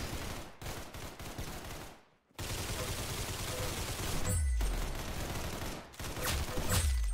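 Rapid automatic gunfire from the video game Arsenal crackles almost continuously in dense bursts, with a brief gap and a few low thuds, loud and up close.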